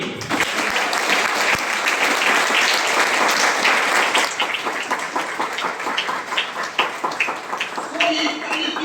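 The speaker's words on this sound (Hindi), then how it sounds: "अशोक सर के लिए ताली मारिए" Seminar audience at a training program applauding, dense rapid clapping sustained for several seconds before thinning out toward the end, with a voice speaking over it.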